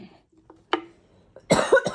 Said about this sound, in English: I've been really sick, so I still have my cough